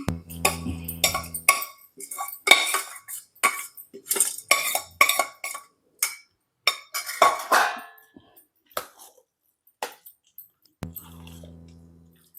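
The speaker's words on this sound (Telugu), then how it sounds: "ఇప్పుడు ఈ పోపుని రైస్లో వేసుకొని మిక్స్ చేసుకోవాలి." A spoon mixes onion tempering into cooked rice for curd rice in a metal vessel, making repeated scraping clinks and knocks in an uneven rhythm, close and moderately loud, with a low stove hum at the start and end.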